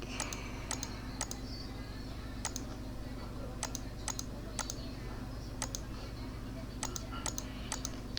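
Sharp, isolated computer mouse clicks while working in Blender, spaced irregularly over a steady low hum, close and crisp.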